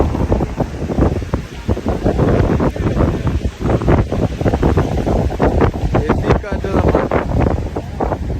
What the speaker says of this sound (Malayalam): നല്ല ഒടുക്കത്തെ കാറ്റ്.